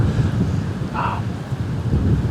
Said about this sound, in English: So yeah, we're gonna sit tight, let this wind die down.